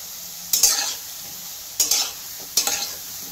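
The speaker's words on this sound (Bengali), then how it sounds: "গরম করে নেওয়ার পরে এটাকে বলটাকে ছেড়ে দেওয়া হলো, ছানার বলটাকে।" Chhana (cottage cheese) balls drop into hot oil in a wok, giving three separate bursts of bright sizzling over a quiet, steady background hiss.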